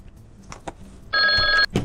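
A telephone rings with one loud electronic trill burst lasting about half a second, close by, following scattered quieter thumps and knocks.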